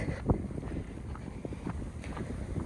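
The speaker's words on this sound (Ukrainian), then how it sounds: "як завжди, вітер, простіть." Gusty wind rumbles steadily against the microphone in a village vegetable garden, low and muffled, with a brief thump near the start and no clear talking.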